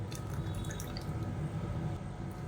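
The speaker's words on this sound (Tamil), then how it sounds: "இப்போ மிக்சி அலசிட்டு கொஞ்சமாக தண்ணி சேர்த்துக்கலாம்" Water trickles and drips steadily into an electric mixer jar being rinsed after grinding curry leaf chutney, a continuous close splashing flow with no talking.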